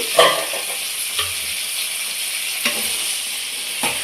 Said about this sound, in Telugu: కొద్దిసేపు మగ్గనిద్దామండి సన్న మంట మీద